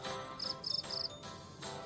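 Short high-pitched cricket chirps repeat in quick pulses, faint and steady against a quiet background.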